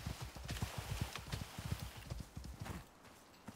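Horse hooves clip-clop in a quick, steady rhythm as a mount is ridden in the OpenWorld Olympus video game, close and clear, then the hoofbeats stop abruptly near the end.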